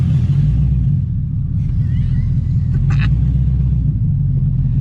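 An LS-swapped Camaro engine rumbles low and steady as the car pulls away, a heavy continuous drone close by with a faint brief noise partway through.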